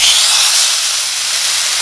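A strip steak laid into a very hot pan on a Gas One portable stove, giving a loud, close, continuous hiss of searing that holds steady for a moment without any voices.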